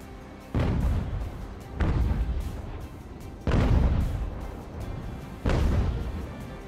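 Broadside cannons of a sailing warship firing in Ultimate Admiral: Age of Sail, four heavy booming blasts spaced a second or two apart, each trailing off in a rumbling echo.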